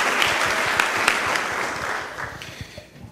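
A church congregation claps together, a dense, loud burst of applause that gradually thins and fades over a few seconds.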